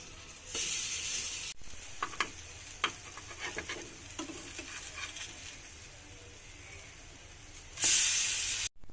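Parathas fry in a pan, a soft sizzle and hiss running throughout with scattered stirring clicks and scrapes, and a louder burst of spitting at the end; no one speaks.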